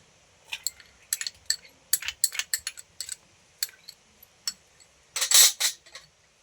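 Chopped mushroom is mixed with egg in a bowl for a mushroom omelette. A utensil knocks and scrapes against the bowl in quick, irregular clinks, with a louder rattling burst near the end and quiet pauses between.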